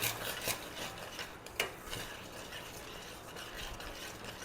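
A spoon scrapes and rubs around a pan as a thick sweet rice mixture with cardamom powder is stirred, giving a continuous gritty scraping with a couple of sharper knocks.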